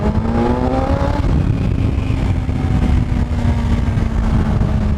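A motorbike accelerates hard, its engine note climbing in pitch at first, then holding a loud, steady drone with faint rising whines layered over the roar.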